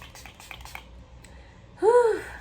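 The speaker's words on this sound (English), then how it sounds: "just apply my setting spray" A short hissing burst of makeup setting spray near the end, following faint tapping and rustling sounds, close and fairly quiet.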